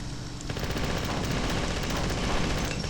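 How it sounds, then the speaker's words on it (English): Rapid automatic fire from an assault rifle in the video game Marathon: Durandal, a dense, continuous burst of loud shots filling the whole stretch with no pauses. "Really easy when you use the assault rifle"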